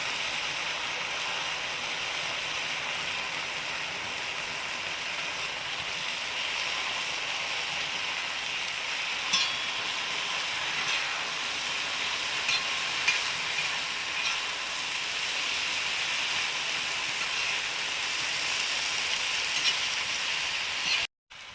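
Vegetables stir-frying in a pan with soy sauce give off a steady, continuous sizzle that lasts throughout, close and moderately loud, with no talking.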